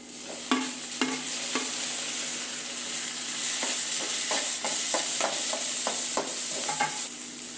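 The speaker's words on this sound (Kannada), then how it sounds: "ಈಗ ಈರುಳ್ಳಿ ಚೆನ್ನಾಗಿ ಫ್ರೈ ಆಗಿದೆ. ಒಂದು ಟೊಮೊಟೊ ಹಾಕ್ಕೊತಾ ಇದ್ದೀನಿ." Tomato hits well-fried onions in a pan, which hiss continuously while a spoon knocks and scrapes in scattered strokes nearby. No voices are heard.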